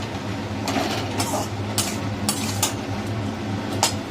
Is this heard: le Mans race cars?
no